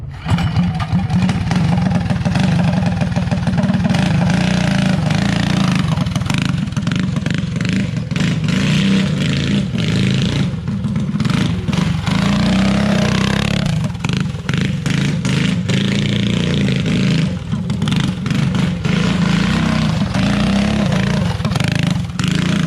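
A rescued junkyard go-kart engine runs continuously outdoors, a loud, rough motorcycle-like drone with clattering and repeated revs rising and falling as the kart is driven around under its own power.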